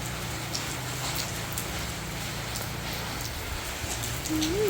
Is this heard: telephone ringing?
no